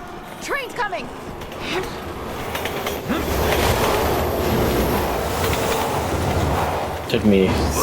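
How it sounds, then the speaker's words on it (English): A train approaches through a sewer tunnel in Resident Evil 6, a steady loud rail rumble swelling and holding with clattering wheels, while a voice talks over it near the start and end. "Train's coming!"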